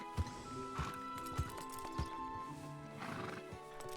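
A horse in a Wild West roleplay game whinnies and snorts while its hooves clop and stamp in short irregular bursts, fairly close and clear, with no talk over it.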